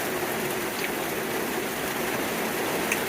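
Heavy rain drums steadily on the metal roof of a Vauxhall Vivaro camper van, a loud, dense, unbroken hiss of drops close overhead with no pauses.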